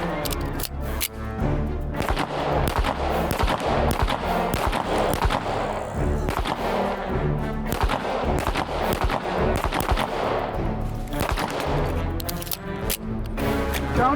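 Colt 1911 pistol fired repeatedly at a shooting range, sharp loud reports in a rapid, continuous string across the whole stretch, with muffled range echo.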